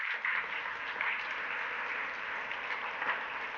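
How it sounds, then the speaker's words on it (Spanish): Steady applause fills a church congregation, a dense wash of clapping held at an even level throughout with no voices rising above it. "Dele el aplauso al Señor"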